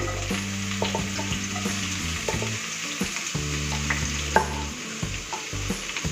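Chopped tomatoes and onion frying in hot cooking oil for lemon rice, a steady sizzle with scraping stirs under a low constant hum, close by and with no voices.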